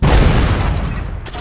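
A heavy, booming blast from an area damage sniper rifle in the Pixel Gun 3D shooter game hits hard at the start and decays into a long, rumbling tail, loud and alone without speech.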